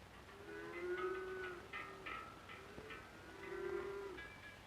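Cattle grazing on Swiss mountain pastures low in several drawn-out moos, one after another, moderately distant and faint against quiet open air.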